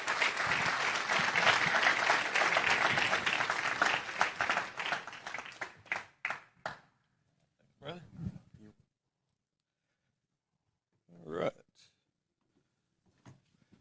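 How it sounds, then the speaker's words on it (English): A conference audience at a talk session claps in sustained, loud applause for about six seconds, then it thins to a few scattered claps and falls silent. "So everybody give Chad Riley a hand of applause there"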